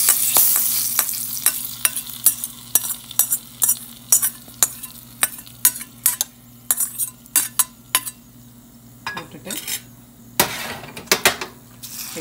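Curry leaves and cooked barnyard millet go into a hot pan for millet curd rice, with steady sizzling frying under repeated sharp clacks and scrapes of a spoon stirring close up.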